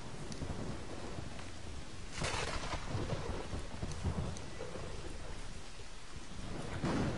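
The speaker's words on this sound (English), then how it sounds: "I love the, the the sound effects in this game for the rain and everything." Rain and thunder in the video game Kena: Bridge of Spirits, a steady hiss of rainfall with low rolling rumbles of thunder swelling beneath it, continuous and enveloping with no talk.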